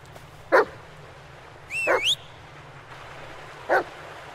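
A dog in the video game Blair Witch gives three short, close barks spaced a second or more apart, the middle one a longer whining yelp, over a low steady hum.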